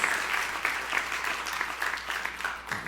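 A church congregation applauds during a sermon, enthusiastic close clapping lasting about three seconds with individual claps audible in the crowd's patter.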